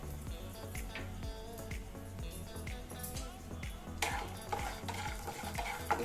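Peanuts, cumin and urad dal fry in oil in a pan on a stove, a soft sizzle under repeated rhythmic stirring and scraping of a utensil, with a brief metallic clatter near the end.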